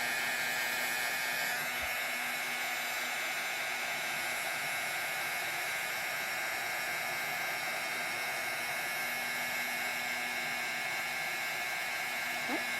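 A heat embossing gun blows steadily to dry ink, a loud continuous hot-air whoosh with a faint whine that runs almost unbroken for the whole stretch, no voices over it.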